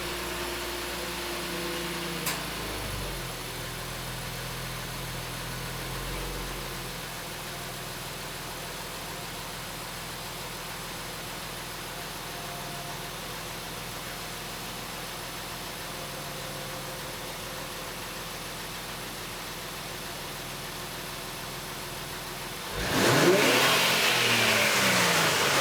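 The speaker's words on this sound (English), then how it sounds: "Here's a clip of the stock muffler." Stock muffler exhaust of a 2019 Infiniti Q50 idling with a low, steady rumble for most of the stretch, a couple of brief blips early on, then a louder rise near the end as the engine revs.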